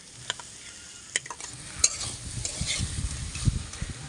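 A spatula stirs banana flower curry with fried potatoes, cashews and raisins in a pan, making rhythmic scraping and soft thuds over a low sizzle, close by and free of speech.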